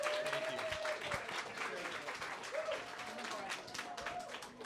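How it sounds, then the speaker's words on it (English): An audience at a startup pitch competition in Austin, Texas, claps warmly in a dense, continuous patter, with a voice speaking over it. "Give them a warm round of applause."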